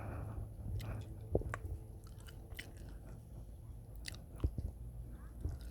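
Close, faint chewing and biting on spicy som tam papaya salad, soft crunches and wet mouth sounds with a few sharper bites, under a low background hum.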